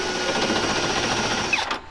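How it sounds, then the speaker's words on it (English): Step drill bit boring into a Chevy truck frame, a steady high-pitched grinding whir that runs continuously, then winds down abruptly at the end. "I was using stepper bit"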